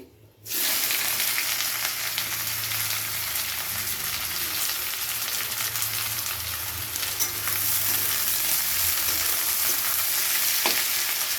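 Chopped onion frying in a pan with a steady, loud, close hiss of sizzling oil that starts abruptly and continues throughout, with occasional faint stirring noises and no talking.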